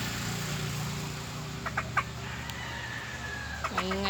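A hen clucking and squawking as she lays an egg, a steady close cackle with a few sharper calls and a rising squawk at the end over a low background hum.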